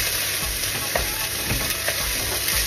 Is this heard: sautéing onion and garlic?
yes